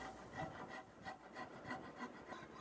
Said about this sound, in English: I'm also cleaning up the comfort carve area with a round file by hand.